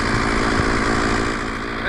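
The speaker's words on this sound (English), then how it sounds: "my chainsaw is idling a little hot today" A chainsaw idles at a cabin building site where timber and piling are being readied, giving a loud, steady, buzzing engine drone that stays fairly even throughout with no speech.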